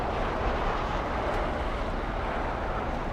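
A Japan Airlines airliner, flight 69 bound for Osaka, takes off at LAX with a steady, loud broadband engine roar that holds evenly throughout and has no talk over it.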